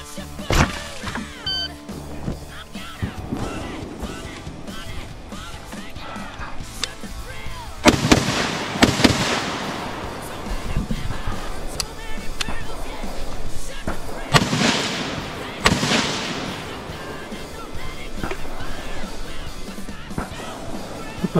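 Gunfire at an outdoor shooting range training complex: a few sharp nearby shots, then heavier bursts of loud cracking reports in two clusters, with voices talking between them.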